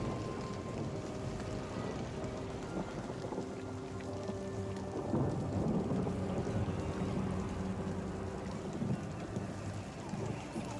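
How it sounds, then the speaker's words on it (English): Steady rain ambience in a game set in an ice court, a continuous dense wash of falling water with low rumbling undertones and no voices, holding an even level throughout. "Even the rain ASMR and some spooky sounds."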